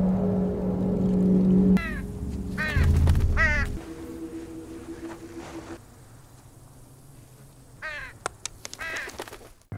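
Crows caw repeatedly over a corpse in a film, with rhythmic harsh calls in clusters, some close and some farther off, over low rumbling background sound and a steady hum.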